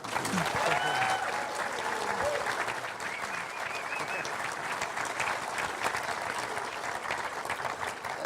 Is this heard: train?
no